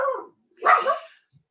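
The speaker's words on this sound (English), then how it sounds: "My dogs will oftentimes bark during something." A pet dog barks indoors at home: one sharp close bark followed by a second, louder bark, each standing alone against silence.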